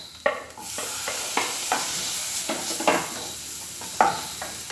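Chopped tomatoes tossed into a pan of frying spices, a bright continuous sizzle punctuated by repeated scraping strokes of a spoon stirring against the pan, close and fairly loud with no talking.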